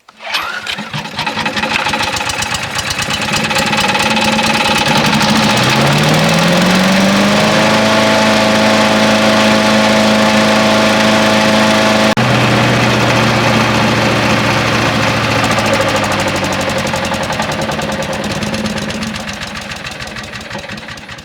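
A choked pull-start engine catches on the first pull and settles into a steady, loud idle with a stable hum. The idle drops briefly partway through and then runs on close to the listener until it tapers at the end.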